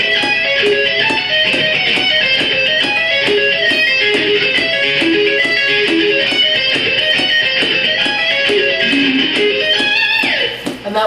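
Electric guitar arpeggios are picked slowly in steady triplets against a click, including a five-string arpeggio shape. The notes are close, loud and even throughout, with no talking.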